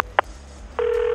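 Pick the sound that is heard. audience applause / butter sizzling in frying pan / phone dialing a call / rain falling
phone dialing a call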